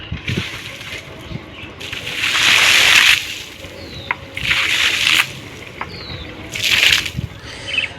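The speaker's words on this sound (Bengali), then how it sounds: "এটা খেয়া বোর্ড আসছে মানে এপার থেকে ওই পারে যাওয়ার জন্য ছোট্ট একটা ডিঙি বোর্ড আসছে" Water sloshes and surges around a small ferry dinghy crossing a river, with three rushing swells of lapping and splashing between quieter stretches, heard close and fairly loud without talk.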